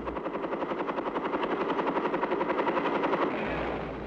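Chinook cargo helicopters airlifting sling-carried 105mm howitzers into a military tactical zone, their rotors giving a loud, steady, rapid thudding beat that swells slightly before easing at the end.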